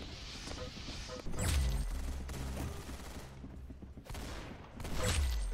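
Bursts of rapid gunfire during a boss fight in the Roblox Arsenal game, loud close volleys with a quieter gap between them and a final burst near the end, no speech over it.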